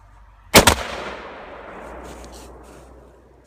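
A sharp, loud blast of Tannerite going off in a brush pile outdoors, a single explosive crack followed by a long fading rumble.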